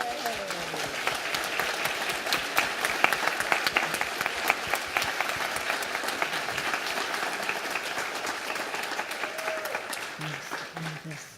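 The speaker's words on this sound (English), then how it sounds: "Let's give Mary a round of applause" An audience applauds for Mary at a music gathering, a dense, steady wash of many hands clapping throughout, with faint voices murmuring underneath and a brief tonal sound near the end.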